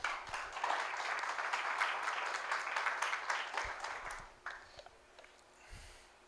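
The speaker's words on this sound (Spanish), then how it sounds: "Y dale un aplauso al Señor." A church congregation claps together, a few seconds of moderately loud, dense applause that fades out abruptly, leaving a quiet room with a few scattered knocks and shuffles.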